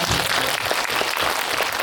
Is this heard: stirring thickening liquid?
no